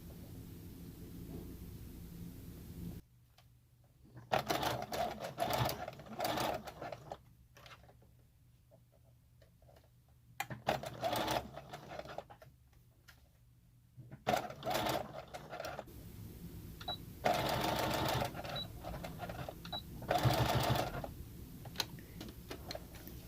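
A sewing machine stitches small pieces of fabric for miniature dollhouse bedding, running in several close bursts of rapid mechanical ticking separated by quiet pauses.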